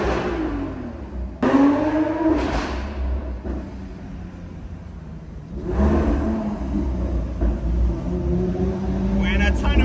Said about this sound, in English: Koenigsegg in front sounds incredible.